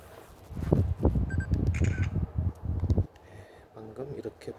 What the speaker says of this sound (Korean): 사진을 한번 찍어 보도록 하겠습니다.